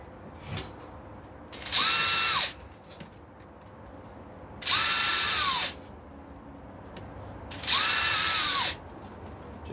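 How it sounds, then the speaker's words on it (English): An electric drill with a fairly big bit whirs in three separate bursts of about a second each, evenly spaced, close by, with quiet pauses between, drilling a guitar body. "just got a drill here with a fairly big drill"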